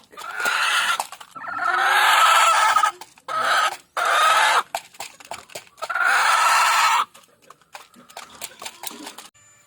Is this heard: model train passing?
no